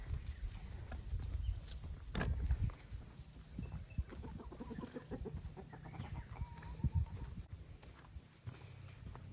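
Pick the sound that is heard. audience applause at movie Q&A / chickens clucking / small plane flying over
chickens clucking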